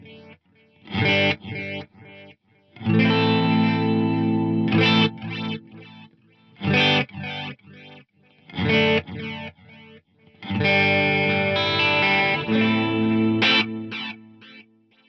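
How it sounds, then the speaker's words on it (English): Guitar phrases pass through a Strymon DIG delay in 12-bit mode with deep, wobbling modulation and a gritty lo-fi edge, short bursts of chords separated by brief pauses. "I love the deep modulation and the 12-bit mode together."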